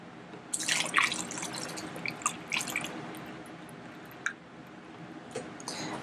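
Water poured into a spray bottle while mixing a homemade Febreze-style air freshener: a short burst of splashing and gurgling early on, then scattered soft drips and trickles, close and quiet, with no voices.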